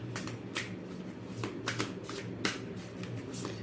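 Tarot cards being shuffled close up, a run of brisk riffling bursts in quick rhythmic succession with papery flutter between them, no talking.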